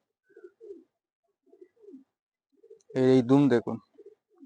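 A Madrasi pigeon gives soft, low coos in short bursts, close and quiet, and someone speaks loudly over them partway through.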